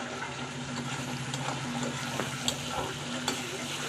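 Spices such as turmeric, masala and kasuri methi sautéed in a pan for a bombil fish chutney, a steady close sizzle with scraping stirring and occasional sharp clicks, no voices over it.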